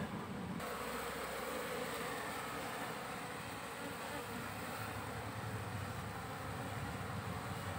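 A swarm of wild honey bees taken from a tree hums in a dense, continuous buzz that stays loud and steady throughout.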